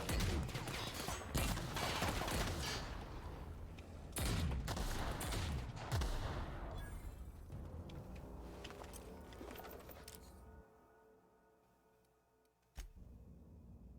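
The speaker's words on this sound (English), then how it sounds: "Actually, let's get the grenade launcher." Weapon fire and explosive bursts from a grenade launcher in the sci-fi game The Outer Worlds, several sharp, loud blasts early that fade into a quieter tail, with one late isolated thump.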